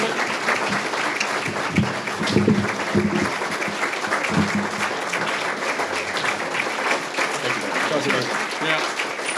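An audience at a bar association event applauding a judge, sustained hand clapping filling the room at close range, with some voices mixed into the applause.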